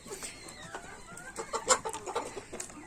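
Chickens clucking nearby in short, irregular bursts, a few sharper calls rising above a soft background of fowl chatter.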